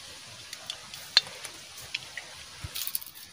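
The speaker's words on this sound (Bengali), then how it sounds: "তেল দিয়ে দিচ্ছি" Oil sizzles and crackles softly in a hot pan as it is poured in for a spinach and lentil dish, with faint scattered pops and one sharper spit near the start.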